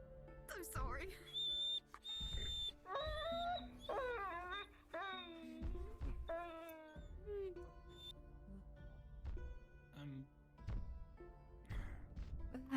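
A small Chihuahua-sized dog in a video game whimpers and whines in repeated high, wavering cries over a steady game-music backdrop, with people talking throughout.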